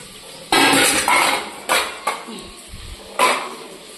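Dishes are set down in a home kitchen, giving a string of close metallic clanks and clinks at irregular intervals: a loud one early, then several shorter knocks, with no talking.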